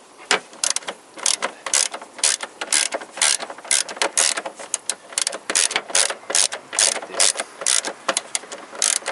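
Ratchet wrench with a 12 mm socket works an engine mount bolt on a 2000–2007 Toyota Corolla VVT-i, rapid loud clicking in repeated back-and-forth bursts, close up, no talk.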